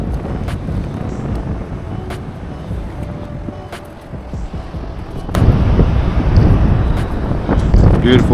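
Wind buffets the microphone on a beach at dawn, a constant low rumble with gusts that strengthen toward the end, no talk audible.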